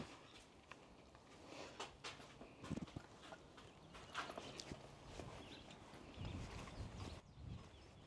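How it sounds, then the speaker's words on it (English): Horses walking at a heritage village museum, scattered hoof clops and knocks at a moderate distance, faint and irregular over quiet outdoor background noise. "Okay, I think I see some horses."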